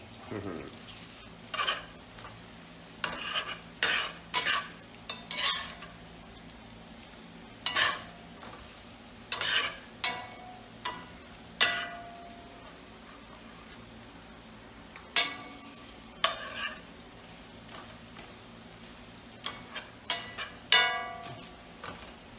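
Bacon frying in a cast iron pan, a steady low sizzle broken by sharp, irregular clanks and scrapes of a utensil against the iron, close by with no voices.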